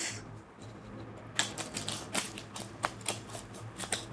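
Tarot cards being shuffled by hand in a quiet room, a run of crisp riffling snaps and flutters at close range following a brief hush, with no voices.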